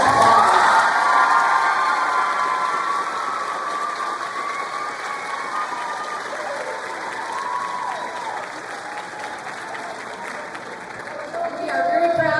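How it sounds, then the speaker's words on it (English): Audience at a school spring concert applauds loudly and steadily, with cheers and whoops scattered through the crowd, fading slightly before swelling again at the end. "Please give them a round of applause."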